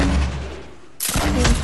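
A grenade in the Fortnite Battle Royale video game: a loud, harsh blast breaks in abruptly after steady broadband game noise, ringing out sharply over the mix.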